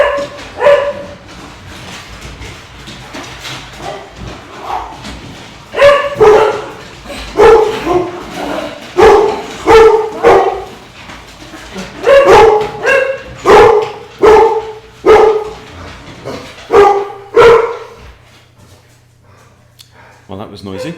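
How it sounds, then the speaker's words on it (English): Several dogs bark repeatedly in loud, uneven bursts, with yips and whimpers mixed in, close by and continuing for about twenty seconds before fading. "dogs are waking up"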